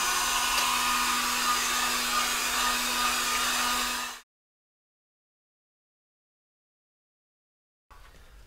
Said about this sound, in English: And just keep moving the hairdryer around.